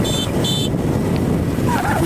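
A motorbike ride on the road to Kushinagar, with loud continuous engine rumble and heavy wind buffeting across the microphone, plus brief high electronic beeps near the start.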